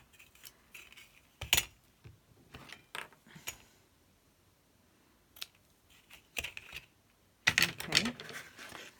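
Scissors trimming ribbon on a painted Christmas gift bag, a few sharp close snips spaced apart with quiet gaps, the last cluster louder near the end.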